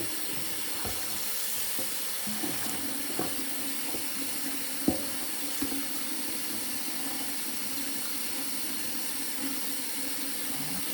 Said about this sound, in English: I'm just going to give them a good rinse.